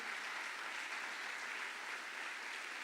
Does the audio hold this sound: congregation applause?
yes